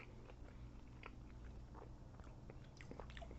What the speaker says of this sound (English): Gotta chew it around a little.